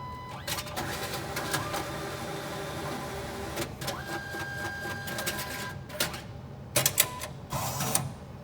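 An ICBC ATM deposit mechanism whirs and clicks while handling Hong Kong dollar banknotes, a close mechanical hum broken by sharp clacks and rattles toward the end.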